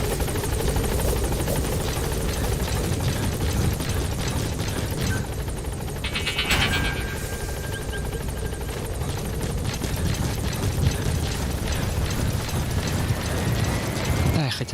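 A support helicopter arriving in the video game Metal Gear Solid V: loud, continuous rotor thrum and engine roar close by, steady throughout with brief mechanical clanks midway.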